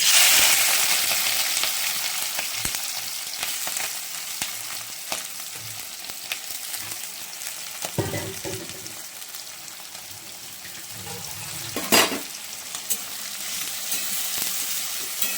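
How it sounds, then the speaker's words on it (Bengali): Prawns frying in hot oil give a continuous crackling sizzle, close and loud, with occasional sharp pops and scraping stirs, and it eases slightly midway before picking up again. "তেলটা গরম হয়ে গেছে, এবার চিংড়ি মাছটা দেব।"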